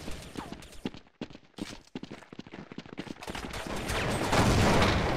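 Rapid bursts of gunfire in the top-down shooter Counter-Strike 2D, volleys of sharp shots in quick clusters and short gaps, growing into a dense continuous clatter toward the end.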